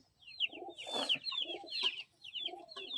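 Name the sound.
pigeon cooing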